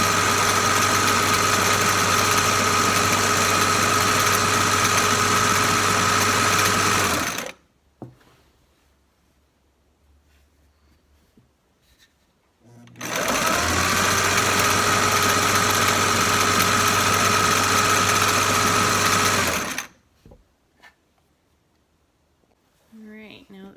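An electric sewing machine zigzag-stitching a patch onto an antique quilt runs in two loud, steady bursts of about seven seconds each, motor whirring close up, separated by near-silent pauses.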